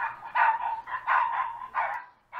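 Neighbor's dog barking repeatedly, a series of mid-pitched, somewhat distant barks in uneven bursts with short gaps between them, no other sounds over it.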